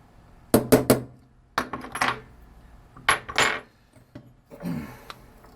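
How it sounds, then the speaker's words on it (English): Gentle metallic taps seat a bearing into a turbine engine, several short clicks and knocks in small clusters, close and clear against a quiet background. "tap on it to make sure it's seated in there, just like this. Just a gentle tap"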